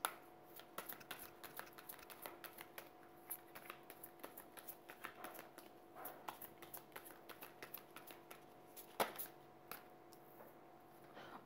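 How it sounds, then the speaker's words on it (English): Quiet, irregular papery riffles and taps of cards being shuffled close by, with short bursts scattered over a soft background hum. "I'm gonna shuffle off camera."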